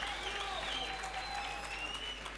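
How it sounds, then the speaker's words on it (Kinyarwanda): Audience applauding steadily at a comedy talk show event, a dense continuous clatter of clapping with crowd noise, held at even loudness throughout. "amashyi menshi cyane"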